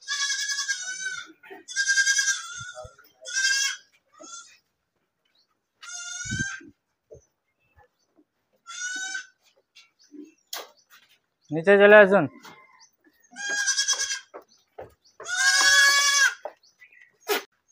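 Goats on a goat farm bleat again and again in short, loud, wavering calls spread across the whole stretch. Someone speaks briefly among them.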